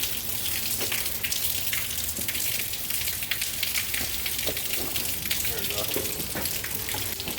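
Water gushes steadily from a kinked sump pump discharge hose, a continuous splashing rush like heavy rain on a hard surface, with low voices talking faintly underneath.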